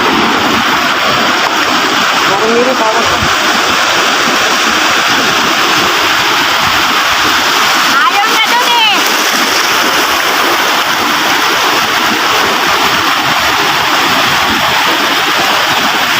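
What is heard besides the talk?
ocean waves crashing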